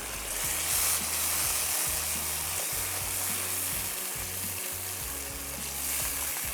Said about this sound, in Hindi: अब दही डालने के बाद आपने इसको भून लेना है सही से